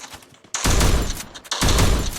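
Automatic gunfire in a mobile shooter video game, loud and close, comes in two rapid bursts separated by a short pause.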